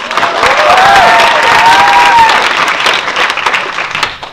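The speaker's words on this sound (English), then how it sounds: "Give him a big round of applause." Loud applause and cheering from a lively crowd at a comedy show, a steady wash of clapping with a few whoops that fades toward the end.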